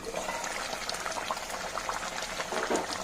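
Tamarind kulambu with karunai kilangu (elephant yam) bubbling in an open pot, a continuous soft simmer with small popping bubbles at steady moderate loudness.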